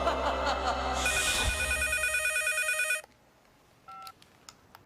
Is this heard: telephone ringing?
yes